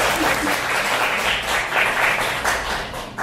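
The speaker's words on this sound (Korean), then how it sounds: "박수 한번 부탁드리겠습니다." Audience applause at an ASUS motherboard event, a steady wash of many hands clapping at even loudness for about three seconds, with no talk over it.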